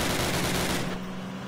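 Rapid automatic gunfire from the Call of Duty video game, a dense continuous burst of shots over a steady hum that cuts off partway through, leaving a lingering low tone.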